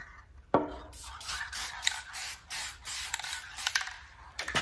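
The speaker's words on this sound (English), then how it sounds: "last thing is just a little spritz with satin lacquer," A spray can of satin lacquer gives a series of short, close hissing spritzes in irregular bursts over a low background hum, with no one speaking.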